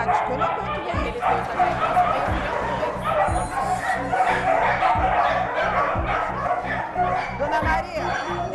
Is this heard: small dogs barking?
yes